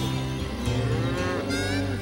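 A hot-headed cow separated from her herd gives a long, loud, close moo that wavers in pitch and fills the whole moment, heard on its own without talk.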